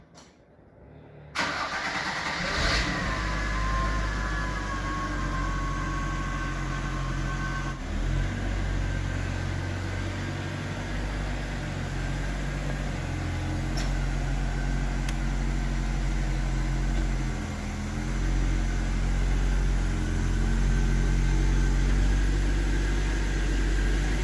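A classic car's engine cranks and catches, then settles into a steady, loud mid-pitched running rumble up close that carries on through the rest of the stretch without talk.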